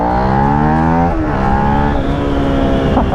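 A 2016 Suzuki SV650 twin-cylinder motorcycle engine runs loud and close, its throbbing tone revving, dipping briefly, then holding a steady, rumbling pitch.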